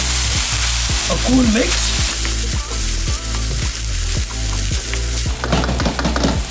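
Cooked rice being stir-fried with vegetables in a pan for fried rice, a steady loud sizzle broken by regular scraping strokes of the spatula, with a brief voice murmuring partway through.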